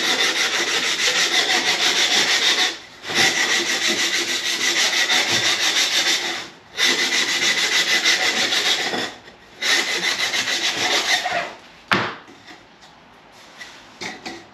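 Sandpaper wrapped around a wooden block is rubbed by hand in long, steady, gritty back-and-forth strokes. The strokes run in several sustained passes with brief pauses between them, heard close and alone, with no talk.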